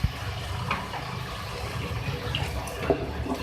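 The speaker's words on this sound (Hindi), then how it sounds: "भूनने के लिए पानी का इस्तेमाल कर रही हूँ" Water is poured into a pan of frying spices for a chicken and cabbage dish, a steady low wash of liquid with faint clinks, close and moderately loud with no talking.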